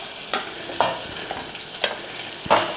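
Chopped onion and garlic sweating in butter in a pan: a soft, steady sizzle broken by several scraping stirs at irregular intervals, close by, with no talking.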